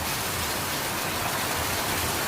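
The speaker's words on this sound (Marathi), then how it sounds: "नुसता मरणाचा पाऊस चालू आहे" Heavy monsoon rain pours down steadily, a dense, even hiss of water with no break or variation, loud and close.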